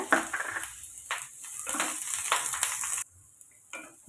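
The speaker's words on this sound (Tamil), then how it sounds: "ஒரு பெரிய வெங்காயம் கட் பண்ணி வச்சுருக்கேன் அதையும் வதக்கிக்கோங்க" Soft, steady sizzling and stirring of a chopped large onion sautéing in a pan, a continuous hiss with brief scraping bursts, then quieter at the end.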